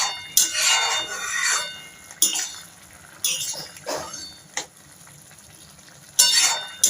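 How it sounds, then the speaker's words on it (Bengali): Poppy seed paste with potato and tomato being stirred in a home kitchen pan, several separate bursts of scraping and soft sizzle with quiet gaps between them. "পোস্তটা দিয়ে একটু নাড়াচাড়া করব"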